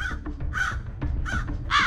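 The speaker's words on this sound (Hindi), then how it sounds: "तभी कौए ने एक अजीब सी आवाज में कांव कांव करना शुरू कर दिया।" A crow caws three times in quick succession, harsh and close, over a low rumbling background in an animated Hindi story.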